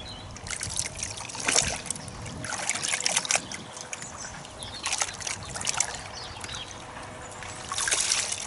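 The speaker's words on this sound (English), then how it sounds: "squeeze the towel out. You don't want to squeeze all the water out." Water trickles and drips faintly from a squeezed towel during an outdoor car wash on a warm day, with soft irregular patters and splashes against a quiet background.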